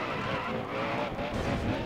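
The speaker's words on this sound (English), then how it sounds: "How fast can I just drift these corners?" A stock car drifts around corners in NASCAR Dirt to Daytona, its engine roaring steadily with tire skid noise, the sound continuous and fairly close.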